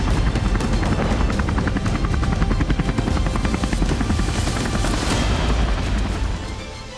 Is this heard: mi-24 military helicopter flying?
yes